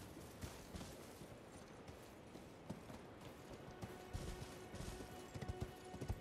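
Rhythmic horse hoofbeats in Elden Ring clatter steadily over a noisy game soundscape, with occasional sharper thuds and impacts growing louder toward the end.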